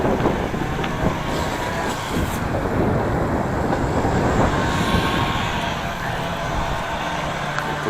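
Strong wind roars steadily outdoors, a dense, loud, broadband rush that never lets up.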